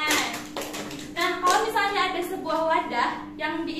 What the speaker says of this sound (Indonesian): Bentar ya, tepuk tangan